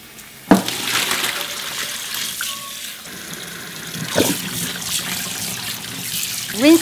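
Blanched seaweed for a Korean sweet and sour miyeok salad is rinsed under cold running tap water, a steady gushing stream with splashes and bursts as it is handled in the sink.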